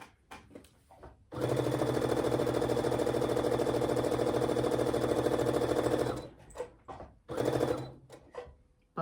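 A sewing machine stitches a quilt in one loud, steady run of rapid mechanical whirring that lasts several seconds, then stops. Brief handling noises come before and after it.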